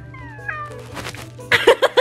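A cat meows several times, starting with drawn-out, rising cries and ending in a quick run of short, loud meows close by. A faint hum lingers underneath.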